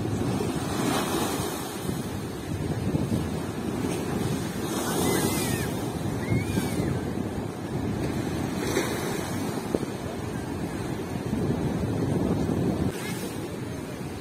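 Cool wind blows off the sea onto the Odesa shore in October, a steady loud roar of wind noise over the low rumble of surf and waves, with no one talking.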